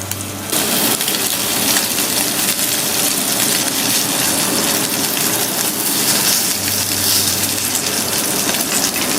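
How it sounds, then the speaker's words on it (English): Pieces of yellow margin triggerfish fry in a pan, a loud, dense, rain-like sizzle that starts abruptly after a brief quiet moment and keeps up steadily to the end. "We'll cook these until they're beautifully golden on each side, making sure not to overcrowd the pan to allow each piece to fry perfectly."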